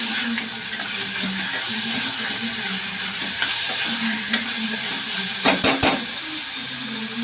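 Ginger garlic paste frying over a low flame, giving a steady soft sizzle that goes on throughout. A few clinks of a spoon or utensil against the pan come near the end, and no one speaks.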